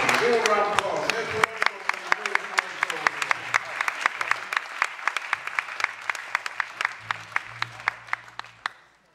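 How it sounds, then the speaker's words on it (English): Small audience at a live music show gives a round of applause: a voice speaks at the start, then scattered individual claps ring out in a steady, sparse rhythm, tapering off near the end. "A little round of applause."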